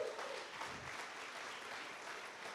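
A conference audience in a church setting gives a faint, distant, continuous applause for Jesus. The soft, dense patter of many hands holds evenly throughout without building or fading.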